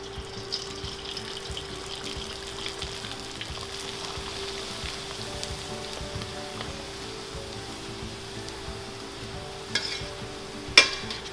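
Cabcab dough deep-frying in hot oil at about 350 degrees, giving a steady close hiss and fine bubbling sizzle throughout, with a couple of light clinks near the end.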